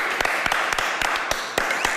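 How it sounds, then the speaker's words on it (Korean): A studio audience at a Korean variety talk show claps, with sharp, scattered hand claps ringing out at irregular intervals over a steady background of applause. "박수."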